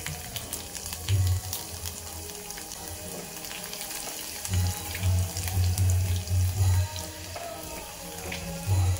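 Garlic goes into hot oil with mustard seeds and cumin and sets off a close, steady sizzle and crackle. It swells in loud bursts as the pan is stirred, and there is no speech.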